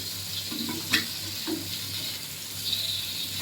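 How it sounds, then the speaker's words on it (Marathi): Ghol fish pieces shallow fry in a pan with a continuous, fairly loud sizzle. A few brief spatters and stirring knocks rise above it. "दोन्ही साईडनी मस्त त्याला शॅलो फ्राय करूया"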